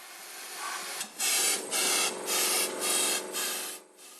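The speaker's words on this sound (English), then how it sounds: "First of all, blow out dust starting from the bottom of the hole." Short puffs of air blow dust out of a drilled hole, five or six breathy hissing bursts in a row, close and fairly quiet, with no voices.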